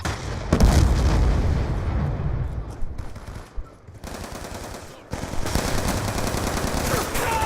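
Call of Duty: Black Ops II gunfire with dense automatic bursts and booming shots, loud and continuous, briefly dropping off mid-clip before the firing resumes at full intensity.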